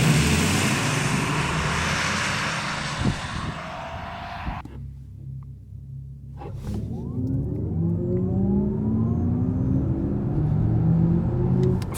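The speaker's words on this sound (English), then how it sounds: "if you're in the boost mode, those for 530 horsepower" An Audi E-Tron GT electric car accelerates hard in boost mode, a loud steady electric whine and road roar that drops away briefly, then climbs again in rising tones.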